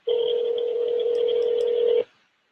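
A single steady telephone tone sounds for about two seconds, loud and close, then cuts off abruptly.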